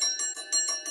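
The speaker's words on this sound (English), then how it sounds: "Are you expected to respond to that division bell?" The Westminster division bell rings in quick pulsed bursts of a bright electric tone, loud and close, repeating steadily without any voices.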